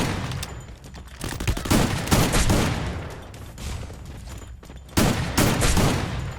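Bursts of gunfire in the Free Fire battle game, sustained rapid shots and fusillades filling the whole stretch at close range, with a loud fresh volley near the end.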